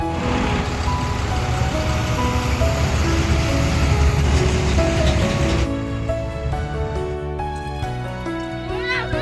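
Jammed road traffic with trucks, heavy engine rumble and a drone of vehicles, with repeated beeping and horn tones that grow more prominent toward the end, heard from close by.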